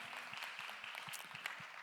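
A congregation at a Sunday youth worship service claps together, giving a soft, even patter of applause that stays fairly distant and steady throughout.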